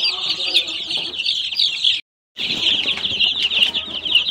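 Dense, constant high-pitched peeping of many chicks, close and loud, with soft clucks beneath and a brief cut to silence midway.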